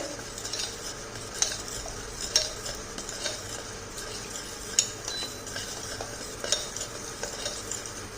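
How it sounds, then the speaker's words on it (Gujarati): Broken wheat roasting in a pan while being stirred nonstop, giving a steady soft sizzle with repeated scraping and light clinks of the spoon, close and continuous. "કન્ટિન્યુઅસલી હલાવતું રહેવાનું છે"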